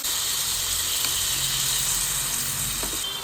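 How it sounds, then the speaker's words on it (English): Steak sizzles in a hot pan while being basted, a dense, loud, continuous hiss and crackle held close throughout, no talking. "And then we're going to baste our steak."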